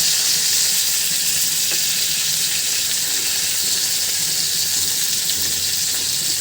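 Slices of pointed gourd (potol) fry in a pan of hot oil, giving a loud, steady sizzle that runs evenly throughout with no talking.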